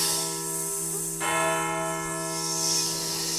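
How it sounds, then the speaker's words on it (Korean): In a folk tale, a bell at an empty mountain temple gives one clear, sustained strike that rings on with a long, humming resonance, alone and without voices. "뭐야? 종소리가 울리잖아."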